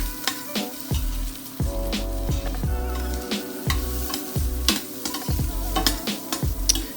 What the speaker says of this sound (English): And you're just going to keep stirring.